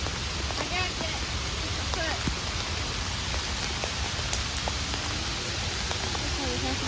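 Heavy rain pours down in Central Park, a steady dense hiss of drops falling around walkers sheltering under a chestnut tree, with faint voices and scattered higher chirps over the constant wash.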